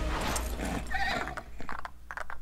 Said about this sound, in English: So let's get ourselves a horse.